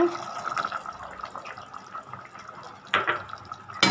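Liquid trickles and splashes steadily into a cooking pot of amaranth stem greens curry up close, with a couple of brief clanks near the end.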